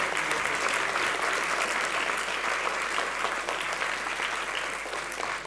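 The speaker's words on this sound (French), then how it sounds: "Pourquoi on n'a pas applaudi Samuel?" Audience at an eloquence competition applauding in a dense, sustained burst of clapping that fills the room at steady volume and tapers slightly near the end.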